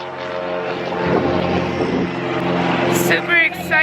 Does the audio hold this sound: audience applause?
no